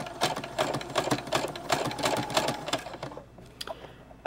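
Sewing machine stitching a pinned fabric seam, a steady rapid run of needle clatter for about three seconds, then slowing to a few separate stitches near the end.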